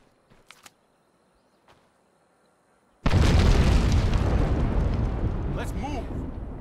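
A huge explosion in the zombie survival game State of Decay erupts suddenly after near silence, a loud booming roar that rumbles on and slowly decays for several seconds.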